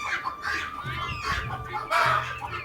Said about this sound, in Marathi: इकडे कोंबड्या अंड्यासाठी आणि खुडूक कोंबड्या बसल्या असतात